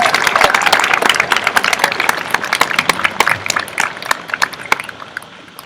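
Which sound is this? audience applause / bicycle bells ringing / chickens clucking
audience applause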